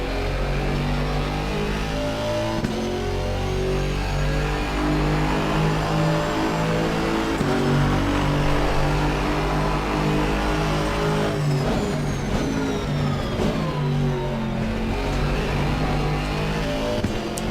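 A GT2 race car engine revs hard in a racing game, a loud, continuous, rising and falling engine drone with gear shifts, heard alone without talk.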